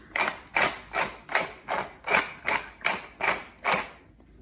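A pepper grinder cranks out pepper in about nine evenly spaced, rasping grinding strokes, close and clear with no talking.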